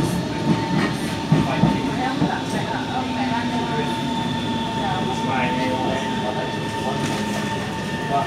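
Interior of an SMRT C151 metro train on the East West Line near Tanah Merah, its traction motor giving a steady whiny hum over continuous rumbling wheel and rail noise throughout.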